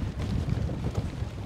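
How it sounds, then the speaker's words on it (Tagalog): Strong wind blowing outdoors by the sea at low tide, a loud, constant low roar buffeting the microphone throughout. "Malakas ang hangin. Talagang malakas."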